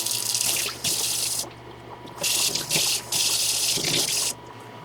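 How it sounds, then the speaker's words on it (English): Tap water rinsing a coleus plant cutting, a close gushing stream that starts and stops several times, with splashing and dripping between bursts. "then just give it a good rinse"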